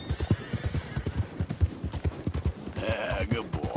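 Horse hooves clip-clop in a steady galloping rhythm in Red Dead Redemption 2, close and clear, with a whinny and a man urging the horse on near the end.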